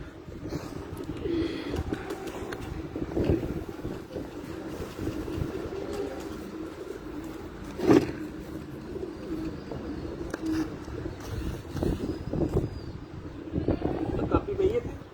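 Pigeons on a rooftop during a pigeon-flying session with a master fancier: soft cooing and bird calls sit beneath steady men's chatter, with background hum and one brief louder sound near the middle.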